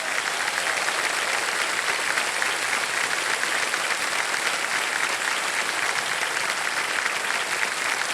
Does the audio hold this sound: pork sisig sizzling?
no